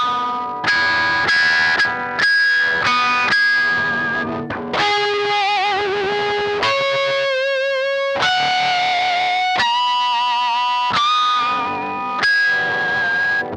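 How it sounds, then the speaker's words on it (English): Natural harmonics ring out on an electric guitar through distortion, a series of bright, sustained chiming notes, each struck separately and held for about a second, loud and clear with no talking. "Let's add some distortion"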